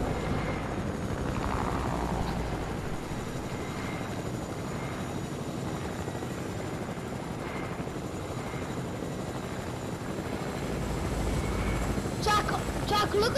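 A helicopter in the video game Fortnite drones with a steady rotor and engine rumble close by, while players talk over it and a few sharp clicks break in near the end.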